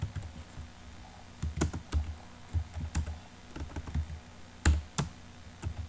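Typing on a computer keyboard while entering HTML anchor-tag link text: irregular bursts of close key clicks and taps, some louder strokes, with no speech.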